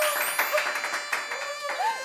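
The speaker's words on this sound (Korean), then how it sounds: "아니 왜 다 박수를 치지?" A handful of people clap briefly in a studio on a variety show, scattered claps mixed with chuckles and voices talking over them.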